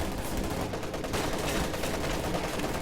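An MG-34 machine gun in a video game battle fires a dense, continuous burst of loud, rough rattling shots that fills the whole moment without a pause, with no voices.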